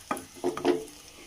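Tomato masala being stirred as it fries in a pan for an egg curry, giving a few short scraping strokes with faint sizzling underneath, close and alone.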